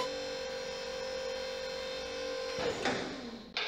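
A hydraulic pump drives the number 2 section of a Texas Pride Super Seven car hauler trailer upward, giving a steady, close mechanical hum with a high whine. Partway through the pitch shifts, and a brief clunk follows near the end.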